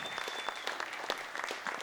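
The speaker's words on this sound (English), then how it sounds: "Big round of applause for Kenny Etchison" Audience applause at a guitar roadshow fills the room, a steady wash of clapping heard at moderate distance with no voices over it.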